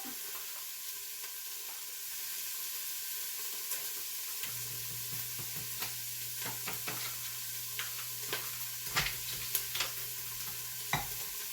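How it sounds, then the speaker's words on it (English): A whisk stirring chicken stew sauce in a pot, soft steady scraping and clicking strokes against the pot, close but quiet, with a low steady hum entering midway and no talking. "now get my whisk out"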